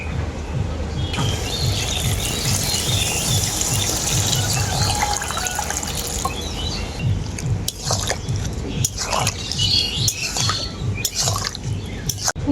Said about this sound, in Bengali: তো এখন এর মধ্যে আমি দিয়ে দেবো পরিমাণ মতো জল